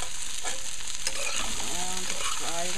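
Long beans with shrimp and black pepper stir-fry in a pan, a constant close sizzle with brief scraping stirs and a few faint tonal squeaks near the end.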